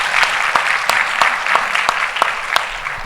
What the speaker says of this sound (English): if everybody give this panel a round of applause